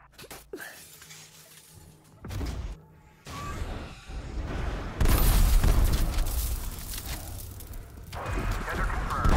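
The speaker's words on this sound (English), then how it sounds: "Initiating firing sequence." A weapon firing sequence in a video game sets off a chain of explosions: sharp blasts and shattering bursts, then a sustained heavy booming roar that grows louder and denser toward the end.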